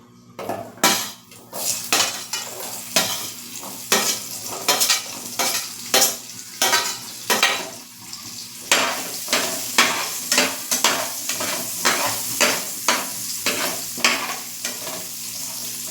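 Two large-cut onions sizzle in a hot pan while a utensil scrapes and clanks against the metal in a steady, repeated stirring rhythm, close and fairly loud.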